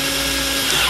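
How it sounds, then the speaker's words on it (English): An electric drill whirs steadily and loudly at close range while assembling an elliptical trainer, its motor pitch shifting slightly near the end of the short burst. "use my electric drill"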